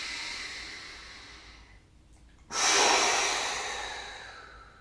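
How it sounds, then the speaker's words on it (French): Deep yoga breathing: a long, soft breath fades away, a short pause follows, and then a sudden, strong breath rushes out close to the microphone and slowly dies down. "inspire par le nez profondément, gonfle le ventre. Expire par la bouche."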